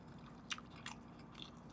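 Crispy fried dumplings are bitten, giving two or three quick, close crunches over a soft, quiet background.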